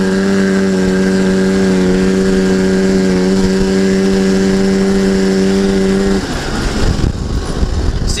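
An Arctic Cat Jag 440 AFS Special snowmobile accelerates from a standstill in fresh, unpacked snow, its two-stroke engine holding a loud, steady droning whine for about six seconds before the pitch breaks up and fades into rougher noise.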